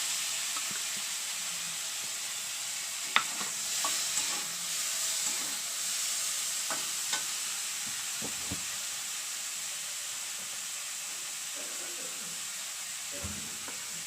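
Shrimp sizzling after being dropped into hot oil in a pan, a steady broad hiss with scattered faint clicks and pops, moderately quiet and even throughout with no talking.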